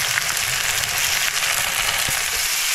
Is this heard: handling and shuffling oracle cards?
no